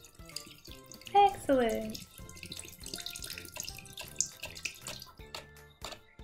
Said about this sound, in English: we're going to pour our water on the top of one of the caps to start it turning